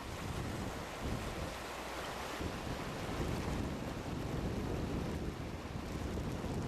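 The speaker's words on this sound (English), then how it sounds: "Usually there's one quick line down a rapid, and in this case it's obvious as they snake down the white water." Kayakers paddling down white water river rapids during the Kathmandu Coast to Coast multisport race, heard as a steady, loud rush of churning water and wind noise with no voices.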